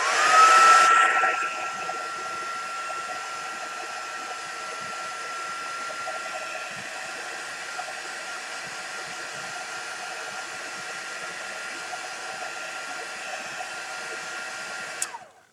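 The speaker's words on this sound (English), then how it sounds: "Let's heat gun it then." A heat gun blows hot air over coloured craft work in a loud, steady roaring whoosh. It starts strongest, then holds an even blast for about fifteen seconds before cutting off with a click, with no talk.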